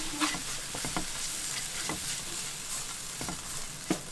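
Ingredients for yukgaejang stir-fried in a pan give a continuous close sizzle, broken by scattered scrapes and taps of the utensil against the pan.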